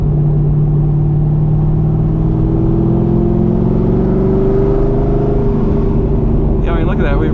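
A Corvette C6 Z06 with tall gearing drones loud and close from the cabin, its engine note rising steadily as it pulls through the revs.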